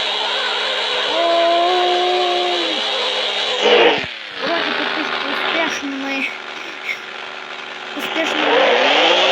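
A car engine in a video game drones steadily as the car drives, its pitch rising and falling, with a sharp drop and restart about midway before it climbs again. Someone talks over it.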